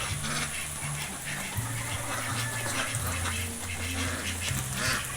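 Steady quacking from a group of farm ducks, close by and continuous, mixed with a running water sound.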